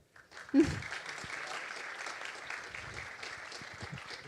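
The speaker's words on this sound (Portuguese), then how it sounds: "Portanto, uma salva de palmas." An audience at a university careers event panel gives a round of applause, with a brief thump at the start followed by steady, moderately distant clapping that continues evenly throughout.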